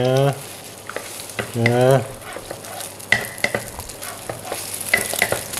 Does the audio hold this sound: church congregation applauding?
no